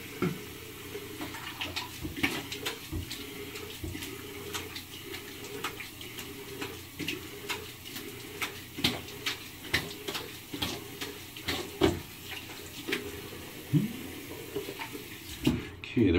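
Tap water runs steadily while a face is rinsed after shaving, a continuous splashing wash with soft irregular bursts over a low hum, fairly close and moderately loud.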